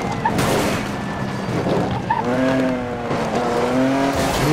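Car in the video game Need for Speed Most Wanted, its engine droning steadily while tires squeal in rising, wavering tones across the middle of the run, loud and without talk.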